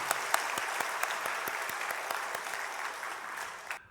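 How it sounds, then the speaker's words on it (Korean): A church congregation at Sunday worship claps for the choir after a hymn, a moderate, continuous patter of many hands with a few sharper claps standing out, fading near the end. "우리 시온 찬양대에게는 격려 담아서 박수하겠습니다."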